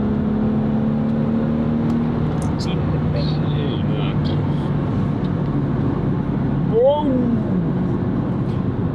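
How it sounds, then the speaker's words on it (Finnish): A Mercedes-Benz in sport mode pulls a full-throttle 0-100 km/h run, its engine a steady, loud drone inside the cabin, with people talking over it. "Otetaanko me 0-100 kiihdytys tästä saa kiihdyttää täysin."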